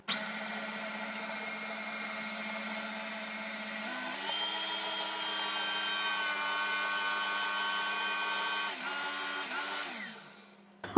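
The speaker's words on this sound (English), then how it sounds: "This mixer is absolutely brilliant" An electric mixer whirs steadily through poppyseed cake batter, its tone shifting in pitch a few times before winding down near the end, with no talk.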